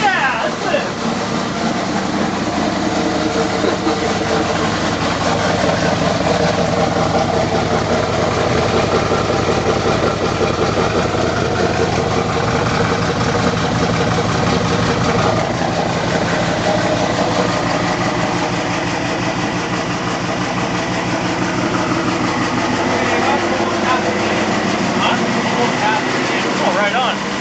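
A Chevrolet Camaro with a 305 H/O engine idles after a cold start, a loud, steady, slightly rough rumble holding for nearly half a minute, with people talking over it.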